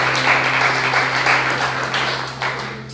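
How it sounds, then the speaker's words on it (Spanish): A church congregation at a Bible study applauding, a few seconds of moderate clapping over a low steady hum, fading slightly toward the end. "Denle un fuerte aplauso al Señor."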